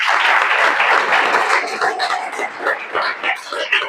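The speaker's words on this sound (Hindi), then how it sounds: "ताली बजा करके धन्यवाद," Group applause from students thanking their teachers at a government engineering college event in Jagdalpur, a dense, steady patter of many hands lasting about four seconds with slight dips and swells.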